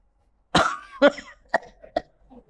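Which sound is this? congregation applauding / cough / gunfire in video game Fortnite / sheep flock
cough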